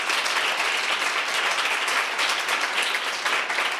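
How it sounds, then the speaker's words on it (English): A crowd applauds continuously, a dense, even patter of many hands clapping throughout with no pauses. "Give a round of applause to yourselves and to your peers."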